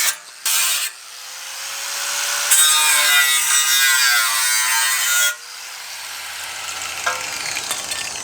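A 4Runner brake kit part is cut by hand with a rasping, sawing stroke to fit the caliper. Close scraping strokes come in uneven bursts, followed by quieter rubbing and light clicks.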